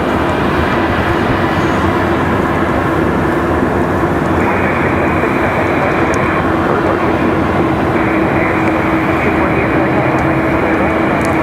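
A Mountain Air Cargo ATR turboprop approaching Raleigh-Durham International Airport produces a loud, steady, broadband engine roar that holds for the whole stretch, with a voice talking over it.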